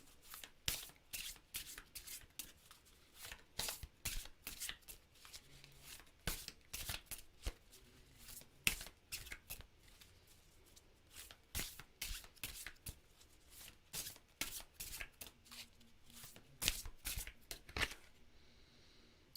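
Oracle cards are shuffled by hand, giving quick, crisp riffling flutters repeated in a steady rhythm. The sound is close and fairly quiet, with no voices.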